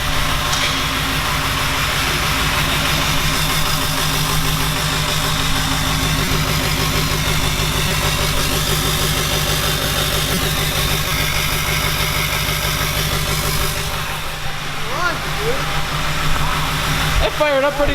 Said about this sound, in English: it does have like at least 2, maybe 3 bad injectors, so that's why it's runs a little rough.